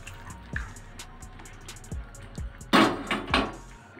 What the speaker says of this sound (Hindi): अब हम यहाँ पर सारा पानी डाल देंगे